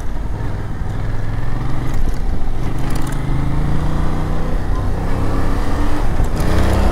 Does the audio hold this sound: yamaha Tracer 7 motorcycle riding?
yes